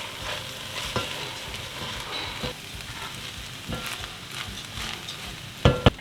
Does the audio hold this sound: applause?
no